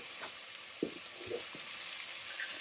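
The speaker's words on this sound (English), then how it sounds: "So I'm going to brown the mince now so that can go in." Lean 5% fat Aberdeen beef mince browns in a pan, giving a steady faint hiss of sizzling with a few soft scrapes and taps of a utensil breaking it up, and no voices.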